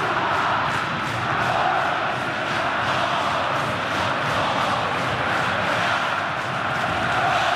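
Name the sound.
football crowd chanting a special cry for striker Bill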